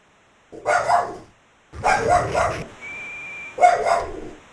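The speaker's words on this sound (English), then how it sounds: "Apologies if you hear my dog in the background." A pet dog barking in another room, three separate bursts of barks and yips at moderate distance, with quiet pauses between them.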